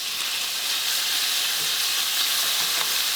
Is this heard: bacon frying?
yes